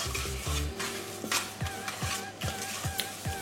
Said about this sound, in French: On mélange très bien de l'huile.